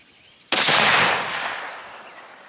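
A single loud Savage Axis II rifle shot in .243 fired at a target range, with a sharp, close crack followed by a long, slowly fading rumble.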